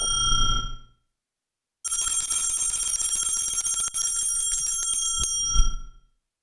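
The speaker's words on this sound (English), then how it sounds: "I'm gonna ring the 2-year bell like the Prime bell" A bright bell used as a two-year Prime subscription bell, ringing in a sustained shimmering trill for several seconds after a short opening ring and a pause, then ending with a final struck ring.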